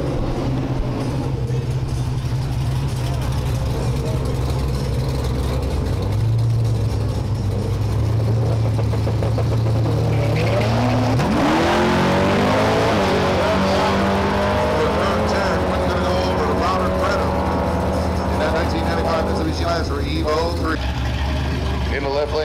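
A Chevy Corvette and a 1995 Mitsubishi Lancer Evo 3 drag race, engines idling and revving before launching into a loud rising roar with gear-change sweeps, under an announcer's voice.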